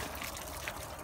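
Hot water draining out of an RV water heater during winterizing, a steady soft trickling and pouring stream running evenly throughout, fairly faint and uninterrupted.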